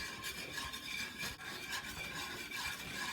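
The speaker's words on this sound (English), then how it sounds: "Whisk all that together." A whisk rubs steadily through gravy with Worcestershire sauce and ground mustard, making a continuous close scraping, swishing sound without pauses and with no voices.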